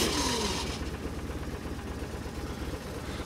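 BMW R1150RT motorcycle engine turning over and settling into a steady fast idle, a low, even throb heard close and alone throughout.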